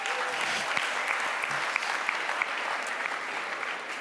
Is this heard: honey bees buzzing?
no